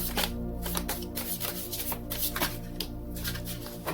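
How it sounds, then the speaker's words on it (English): Tarot cards being shuffled by hand at a tarot reading table, with repeated soft riffling and slapping bursts in a steady rhythm, close and fairly loud, with no one talking. "So let's pull some messages cards"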